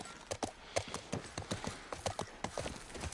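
Horse hooves clip-clopping at a steady trot while riding in The Last of Us Part I, a close, even rhythm of hoofbeats with faint background sound.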